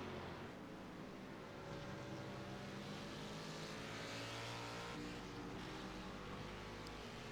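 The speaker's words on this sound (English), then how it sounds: "It seems like once he can get that Ford really moving, it allows him to reel in Neri." Ford and BMW sports cars racing on a winding track, engines droning steadily and loudly throughout with shifting pitch as they push through corners, no talk over the continuous motor noise.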